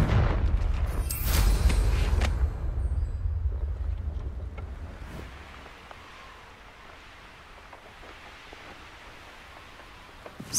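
A Confringo explosion spell in the Hogwarts Legacy video game lands as a heavy, booming blast with low rumble and crackle in the first few seconds, then slowly dies away into a soft ambient hiss.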